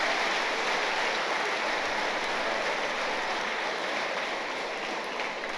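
An audience at a festival talk claps together in a dense, steady wash of applause that holds loud for several seconds and fades slightly at the end.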